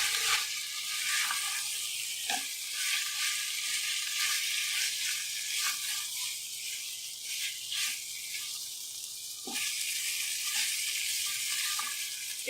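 Marinated chicken with two tablespoons of ketchup sizzles steadily in a pan over low heat, a loud continuous hiss with faint stirring clicks now and then.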